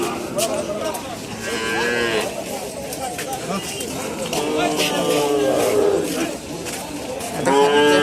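Cattle low repeatedly amid a noisy crowd at a large outdoor cattle market, with people talking throughout and several moos rising above the chatter.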